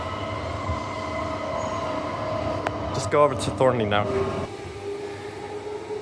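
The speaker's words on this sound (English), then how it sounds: "Okay, so there goes the train." A Thornlie-Cockburn Line train in Perth rolls past at night with a steady mechanical rumble and hum, while a platform announcement voice speaks over it midway.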